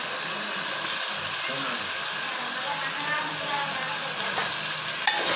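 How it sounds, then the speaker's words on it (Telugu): Chopped onions frying in a pan for Mysore-style red lentil dal, a continuous loud sizzle with the scrape of a spoon stirring through it, close and steady. "ఒకసారి కలిపి కట్ చేసి పెట్టుకున్న ఆనియన్స్ వేసుకోవాలి"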